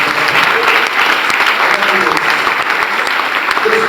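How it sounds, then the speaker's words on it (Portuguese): An audience at a church cell-group congress in Paraná applauds, a dense, steady burst of clapping that fills the whole moment, loud and close, with voices mixed faintly into the noise. "Dá um aplauso, graças a Deus."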